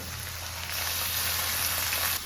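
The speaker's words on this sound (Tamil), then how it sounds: "வெங்காயம் வந்து நல்லா வதங்கணும்." Finely chopped large onions fry in a pan with curry leaves for a curry. A steady, close hiss of sizzling grows slightly louder partway through and then cuts off.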